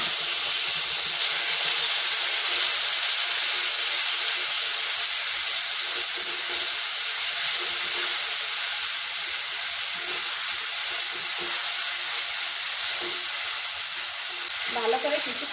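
Ground spice paste for doi katla hits hot oil with whole spices and dried chillies, giving a loud, steady sizzle and hiss close up, with occasional stirring scrapes and brief spits.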